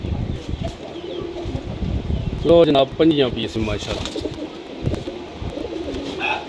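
Pigeons coo softly in the background while someone talks over them, with a louder flurry of calls in the middle.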